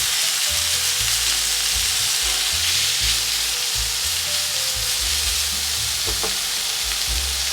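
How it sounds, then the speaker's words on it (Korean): Meat stir-frying in a well-preheated pan over medium heat for japchae, a loud continuous sizzle with intermittent stirring scrapes and a few brief clatters near the end. "예열을 충분히 시킨 뒤에 고기부터 먼저 볶아줄게요"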